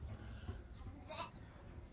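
Goats bleat on a farm on a mild morning, with one brief bleat rising out of a quiet background hum while a voice is faintly audible.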